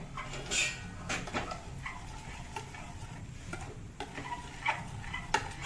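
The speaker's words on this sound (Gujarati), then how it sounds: "બે મિનિટ આપણે સતત હલાવશું. લો ફ્લેમ રાખશું આપણે." A paneer mixture is stirred continuously in a pan over a low flame, giving soft, steady scraping with scattered utensil ticks against the pan under a faint sizzle, close and fairly quiet.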